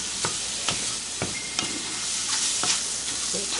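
Eggs fry in a pan with a steady, close sizzle and crackle, broken by a few sharp pops and scraping stirs, with no talking.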